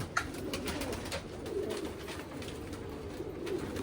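Low, rolling coos from a group of Jamuni pigeons, overlapping and continuous, fairly close, over a steady background hiss with a faint tap near the start.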